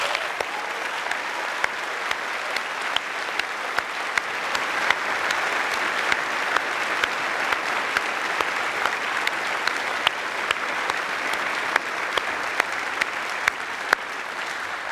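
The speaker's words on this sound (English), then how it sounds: "I think they deserve the loudest round of applause we can possibly manage" A large audience at a University of York graduation ceremony claps loudly and continuously, a dense even wash of hands throughout with scattered sharper claps standing out.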